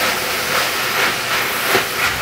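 Oyster sauce, five tablespoons, hisses and steams in a hot pan while stir-frying Thai basil pork for boxed rice, giving a steady close broadband sizzle with gentle swells and no talk.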